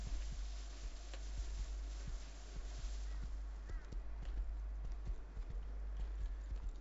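Horse hooves clip-clop at a steady walking pace in the survival game Rust, the light rhythmic thuds playing under a constant low drone with no talking.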